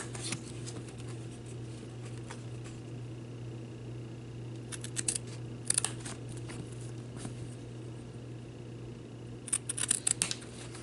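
Scissors cut a paper cross ornament for a shabby chic Christmas craft. A few faint, brief snips come in small clusters against a soft, steady background hum.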